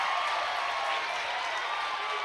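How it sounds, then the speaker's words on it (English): Georgia home crowd at a college softball game against Florida cheering loudly after a called strike, a steady broad roar of voices and applause sustained throughout. "Loudest cheer from this Georgia crowd all day."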